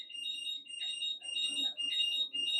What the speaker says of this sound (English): You might hear a beeping in the background.